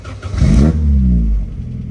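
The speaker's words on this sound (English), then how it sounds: "Starts nicely. These do sound good." A 1954 Triumph TR2 long-door sports car engine cranks and catches, swelling into a loud, close rev before easing back, with no talking.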